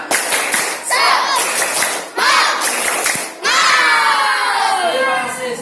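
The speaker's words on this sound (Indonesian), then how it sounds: "Ayo berdiri, tepuk semangat." A class of fifth-grade pupils performs the tepuk semangat clapping chant: bursts of rhythmic clapping alternate with loud children's shouted chanting in three phrases, ending in a long drawn-out cheer.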